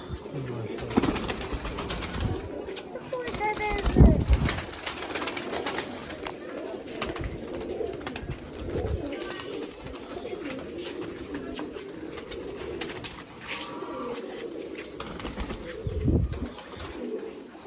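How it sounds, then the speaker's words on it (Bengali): Pigeons, including a female Jadugar Teddy, coo softly in a loft with bursts of wing flapping throughout; someone talks over the birds nearby. "এই যে কবুতর পাঞ্জা,"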